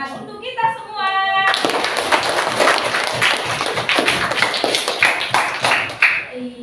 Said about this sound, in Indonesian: Berikan tepuk tangan untuk kita semua